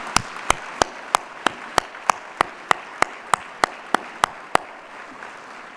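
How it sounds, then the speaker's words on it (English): Clapping at a student merit awards ceremony, heard as a steady run of about fifteen sharp, evenly spaced claps that stop abruptly, close and distinct over a quiet room hum. "Let's give them a big round of applause."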